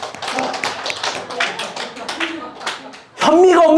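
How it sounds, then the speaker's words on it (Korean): A church congregation claps in a brief burst of uneven, close hand claps that fade after about three seconds, then a loud voice starts talking. "박수."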